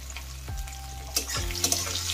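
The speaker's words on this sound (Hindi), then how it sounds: "प्याज को 1/2 फ्राई कर लूंगी।" Chopped onions with a little salt fry in oil over whole spices, giving a soft steady sizzle with a few sharper bursts and scraping stir sounds, close by with no talking.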